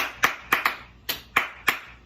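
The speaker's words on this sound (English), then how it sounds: "Clapping," Hand claps as body percussion on a children's art fair stage: six sharp, distinct claps in an uneven rhythm, close and clear with quiet pauses between.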